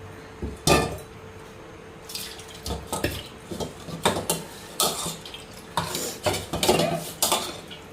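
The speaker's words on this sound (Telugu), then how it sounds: "దీంట్లో కొద్ది వాటర్ పోసేసి కలిపేసేసిడమే" A spoon scrapes and clinks against a metal pot while chili powder is stirred into water, making irregular clattering strokes with a faint watery swish, close and fairly loud.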